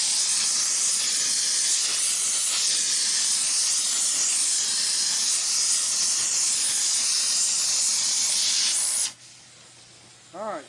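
A torch roars in a loud, steady hiss while preheating and welding a manifold, continuing unbroken for several seconds before cutting off abruptly into a quiet room.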